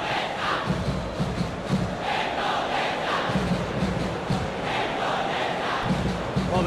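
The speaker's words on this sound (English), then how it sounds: "Well, the crowd clearly like what they just saw." A football stadium crowd at an Olympic play-off match between Indonesia and Guinea, a steady distant roar of cheering and chanting with rhythmic swells.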